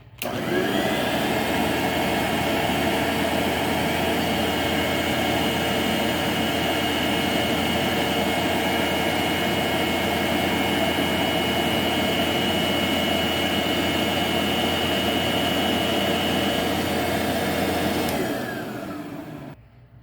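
A Vorwerk VK120 vacuum cleaner fitted with the ET31 stretch-belt nozzle runs with a loud, steady roar and whine for about eighteen seconds, then spins down and falls quiet.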